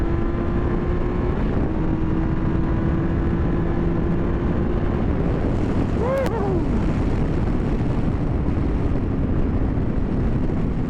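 2014 Triumph Tiger Explorer motorcycle engine at full throttle, a loud continuous drone heavily mixed with rushing wind noise, with a brief rising whine partway through.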